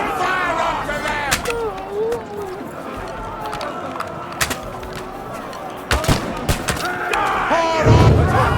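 Battle gunfire in Kingdom Come: Deliverance II, with sharp shots and bursts cracking out irregularly over a busy medieval fight, shouted voices and commotion layered throughout.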